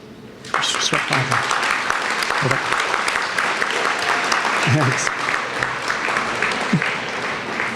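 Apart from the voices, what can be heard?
audience applause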